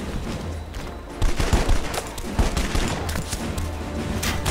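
Rapid bursts of gunfire in the video game Red Faction Guerrilla crackle in quick succession, dense and loud, with a low steady hum beneath.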